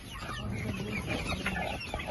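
Village chickens cluck continuously at close range in a short, dense burst of overlapping calls, with no one speaking.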